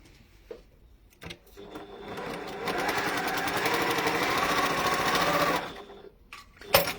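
Sewing machine top stitching fabric, a few clicks and a short stitch, then a steady fast whirring run of several seconds that stops, followed by handling clicks.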